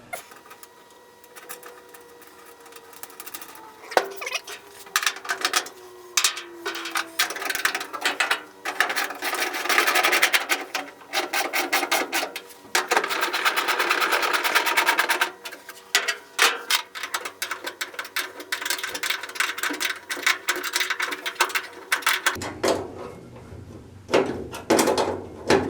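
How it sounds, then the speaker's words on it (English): Small metal parts clatter and ratchet close by as a nut and washer go onto a seat stud underneath an Austin-Healey Sprite Mk1 Bugeye, with dense clicking and scraping throughout and a steady hum dropping away near the end. "I'll get the nut and washer on that"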